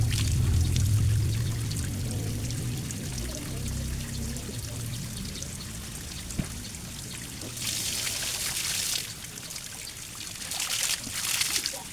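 Water pours steadily from a spout at the Aek Sipitu Dai spring, a continuous close splashing stream that runs the whole time, with brighter hissing bursts of spray toward the end.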